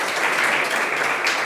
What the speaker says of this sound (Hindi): हुनरमंद बच्चे के लिए जोरदार तालियां